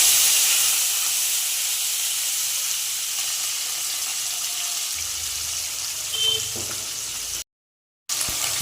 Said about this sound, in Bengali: প্রথমে আমরা মাছটা ভেজে নেব